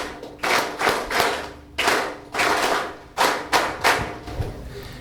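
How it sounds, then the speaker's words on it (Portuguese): Bursts of rhythmic clapping come in waves at a Mozambican political event following a patriotic address, loud and near with several distinct surges and thumping hand strikes, no talk over it. "Uma forte salva de palmas."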